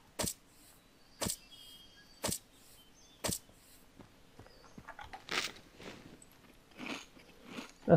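Crunchy munching from a character eating in the survival game Zompiercer: four sharp, evenly spaced bites in the first few seconds, then a quicker run of softer crunches and rustles close up, with no talking.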